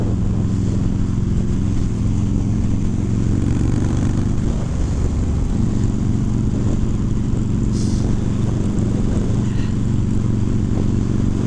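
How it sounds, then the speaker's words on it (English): A motorcycle being ridden to a local bike shop, its engine holding a steady, loud low drone with constant road and wind rush throughout, no voices over it. "This is a fun bike, I'll tell you. This is a lot of fun to ride around."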